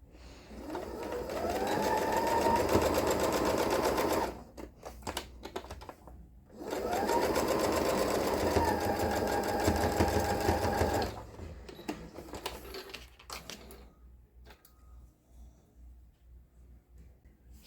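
A sewing machine stitches along the edge of a felt snowflake ornament in two steady, close bursts of several seconds each, separated by a pause, then quiet handling sounds.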